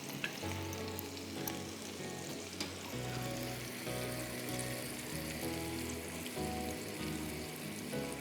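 Handi seekh kabab masala of tandoori and korma spices with a cup of yogurt sizzles steadily in a handi pot, a continuous close frying crackle with faint stirring and no talking.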